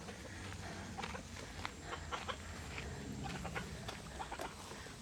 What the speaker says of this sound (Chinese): 在这里都听到有鸡叫声啊！